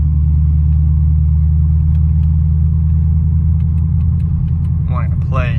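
A Cadillac CTS-V set to race mode gives a loud, steady low engine rumble that holds close and constant throughout, with a person's voice briefly breaking in near the end.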